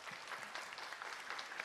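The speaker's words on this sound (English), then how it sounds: "that's why the applause from the audience" Audience applause ripples through the arena at a Snooker World Cup 2017 match between China and Germany, a steady, dense clapping that fills the whole short moment.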